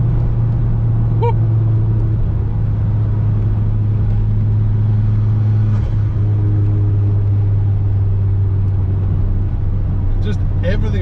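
Ford Focus RS mk2 driven hard, a steady loud engine drone and road rumble from inside the car with little change in pitch, a few brief sounds near the end.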